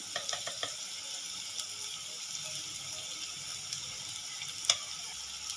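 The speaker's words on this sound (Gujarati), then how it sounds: "ડુંગળી આપણી ગોલ્ડન બ્રાઉન કલરની શેકાઈ ગઈ છે" Onions frying in oil until golden brown for ringan no oro, the Gujarati roasted-brinjal dish, giving a steady, close sizzle with a few faint stirring clicks and one sharper tap near the end. No one speaks.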